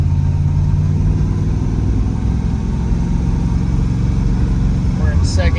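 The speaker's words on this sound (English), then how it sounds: "You can hear the drivetrain. You can hear those solid lifters" A 1966 Shelby GT350 with a four-speed runs steadily in gear, its engine drone loud and constant with drivetrain whine and the ticking of solid lifters, a brief voice near the end.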